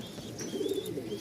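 Pigeons, a pair of full JT spring birds in a fancier's loft, give a short low coo, faint and close, with quiet background hum.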